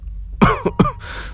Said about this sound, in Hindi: उस तहखाने में एक अजीब बदबू थी, जिसकी महक से पोता खांसने लगा